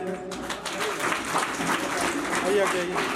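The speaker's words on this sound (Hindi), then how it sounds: "तालियां जो है वो बजती रहनी चाहिए।" At a school retirement program, an audience keeps up steady applause, moderately loud and continuous, while voices speak over the clapping.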